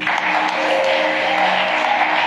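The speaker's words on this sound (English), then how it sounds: "So can we clap for God?" A church congregation applauding for God, a steady, dense wash of many hands clapping together that holds at an even level throughout without pause.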